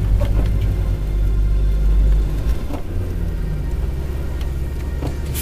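A 107-horsepower car on a drive along Hatteras Island, its engine pulling steadily with a loud, close rumble; the low drone swells in the first half, then eases into a smoother, even run.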